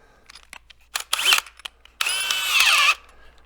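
A power drill with a 3/8 bit drills into metal on a Kawasaki KRX 1000 side-by-side, first in short stuttering bursts, then in one sustained whining run, close and loud with no talking.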